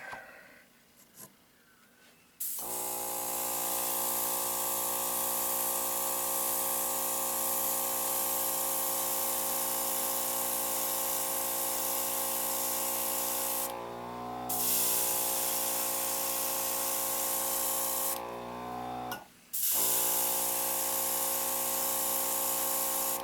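An aerosol can sprays candy yellow base coat paint onto a diecast car in a steady, close hiss, cutting out briefly twice between longer bursts.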